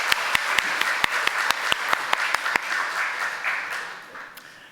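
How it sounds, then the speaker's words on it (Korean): A church congregation at a Sunday service clapping together in a steady, evenly spaced rhythm of sharp claps, fading out after a few seconds. "하늘 경외 박수 올려드리겠습니다."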